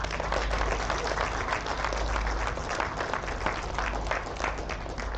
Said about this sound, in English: Can we give a round of applause for the guys who are operating this event all week?